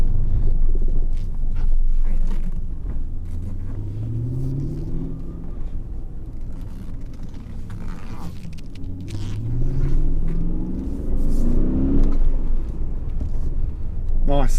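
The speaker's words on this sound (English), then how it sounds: "Nothing like a European V8 engine." A 2000 BMW E39 M5 V8 with a six-speed manual revs in two rising sweeps, a deep rumbling idle between them, heard up close with people talking nearby.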